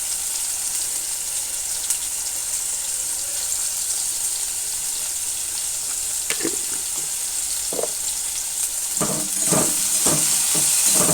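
Eggplant fries slowly in a pan over low heat with a steady, close sizzle and hiss. Near the end come a few scattered pops and crackles, and no one speaks.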